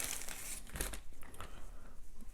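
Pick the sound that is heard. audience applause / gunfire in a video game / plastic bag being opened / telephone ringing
plastic bag being opened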